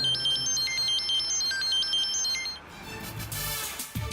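A phone plays a melodic electronic ringtone, a looping beeping tune of high notes for a few seconds before it cuts off into other noise.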